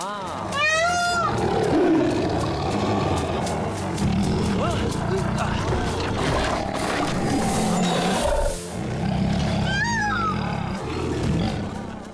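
Several tigers in the Planet Zoo video game let out repeated loud roars and growls across the stretch, close and overlapping, while excited talking runs beneath and between the calls.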